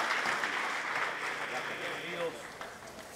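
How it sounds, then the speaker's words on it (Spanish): Church congregation clapping together, a dense crowd applause that runs steadily through the clip with voices mixed in. "Fuertes aplausos a nuestro Dios."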